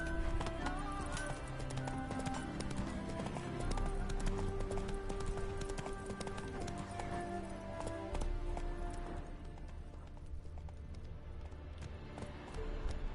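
Geralt's horse Roach gallops in The Witcher 3, a steady rhythmic clip-clop of hooves running continuously over a dense bed of game music and ambience, with hoof beats fairly close and loud throughout.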